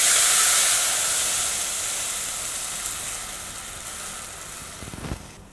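Tamarind water is poured into hot sesame oil tempered with mustard seeds, cumin and turmeric. It sets off a loud, broad sizzle that starts strong and slowly settles into a softer hiss, with a small clatter near the end.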